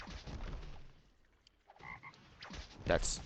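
A toad croaks in the Roblox game Jujutsu Shenanigans, giving short tonal croaks between quiet gaps, with soft combat impacts and thuds around them and no voices.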